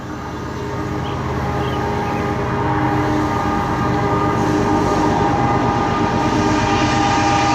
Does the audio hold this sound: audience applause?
no